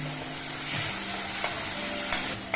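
Green chillies, curry leaves and garlic sizzle in oil in a pan for restaurant-style chicken 65, a dense, close crackle with a few sharp ticks of stirring.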